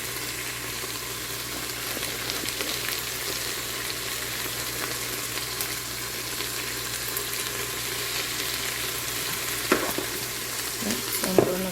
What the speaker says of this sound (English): I'm about to dump the meat in here now